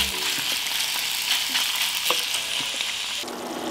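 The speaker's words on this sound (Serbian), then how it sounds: "Ulje se zagrejalo i sad ću spustiti piletinu da se prži." Chicken pieces frying in two tablespoons of heated oil in a pan, a continuous loud hissing sizzle with occasional crackles and pops, close up and steady throughout.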